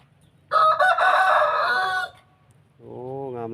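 A fighting rooster gives one loud, close crow lasting about a second and a half, then after a short pause starts a second, lower and more tonal crow. No one speaks over it.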